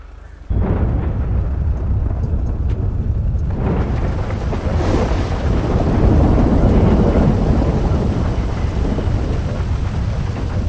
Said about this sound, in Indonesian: Wah tiba-tiba kali hujan.